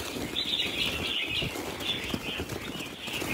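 Red-whiskered bulbuls in a wild-caught lot, giving continuous bright chirping with fluttering, close and fairly loud throughout with no talking.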